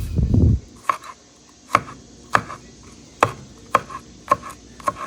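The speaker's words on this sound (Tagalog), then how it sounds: "Crushing and cracking. Chopping." Sharp knife chops on a cutting board while preparing ingredients for paksiw na isda, a Filipino vinegar-stewed fish: a brief low crushing thud first, then about eight spaced, crisp chops in an uneven rhythm, close and alone.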